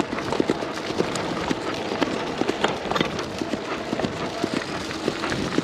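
A pony galloping outdoors, hooves clip-clopping in a quick, steady rhythm of many close, sharp hoofbeats continuing throughout, loud and near, with no talk over it.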